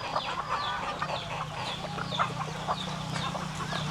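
Chickens cluck and squawk at feeding time in a busy, overlapping chorus, fairly close and moderately loud with a steady low hum underneath.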